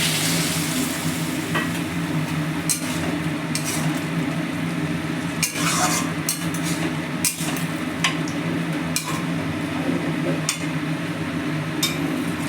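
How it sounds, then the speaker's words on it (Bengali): Steady sizzling and bubbling fills a cooking pan after water is poured in, with faint scraping and clinks of a stirring utensil against the metal recurring throughout. "এবার দেখো জল দিয়ে দেওয়া হচ্ছে"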